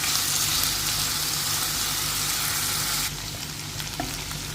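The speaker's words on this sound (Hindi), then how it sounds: "इसमें पहले हम आलू डाल के फ्राई कर लेंगे।" Potato pieces fry in hot oil, giving a loud, steady broadband sizzle that softens slightly partway through, with a faint clink near the end.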